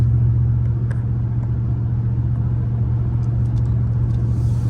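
A Dodge Ram pickup truck engine with an electric supercharger idles with a steady, deep rumble, loud and close, with a faint higher whine above it and no talking.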